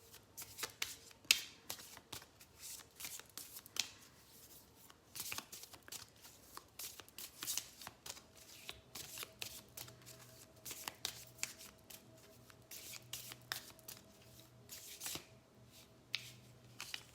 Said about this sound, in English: Okay, I'm gonna shuffle these ones.